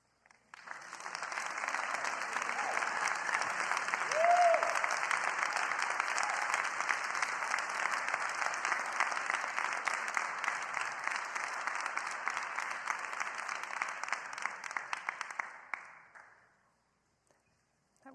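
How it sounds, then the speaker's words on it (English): Sustained applause from an audience, steady and full for about fifteen seconds before fading out, with no talking over it. "That's a tough act to follow in terms of the applause."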